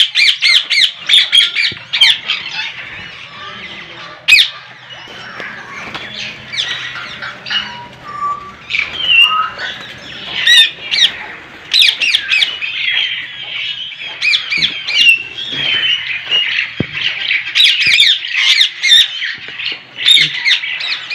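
Caged birds at a large Pakistani breeding farm squawk and chirp loudly and continuously, many overlapping harsh calls close by in a busy, restless chorus with no talk.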